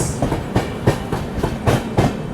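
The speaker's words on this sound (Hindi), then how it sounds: "न्यू दिल्ली से केएसआर बेंगलुरु के बीच में चलने वाली कर्नाटका एक्सप्रेस।" Karnataka Express, an Indian passenger train running between New Delhi and KSR Bengaluru, rolls past on the rails with a loud, steady clickety-clack, its wheel beats repeating about every third of a second over a continuous rumble.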